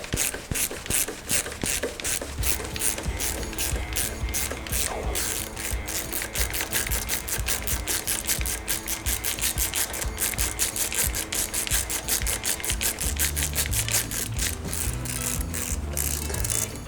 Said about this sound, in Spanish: Con una llave Allen de 5 milímetros.